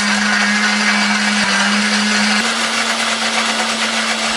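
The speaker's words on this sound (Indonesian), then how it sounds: "Tambahkan sedikit air supaya lebih gampang untuk menghaluskannya." A blender grinds pepper, shallots, garlic, turmeric, ginger and curly red chilies with a little water, making a loud, steady whir that steps up slightly in pitch partway through, with no talking.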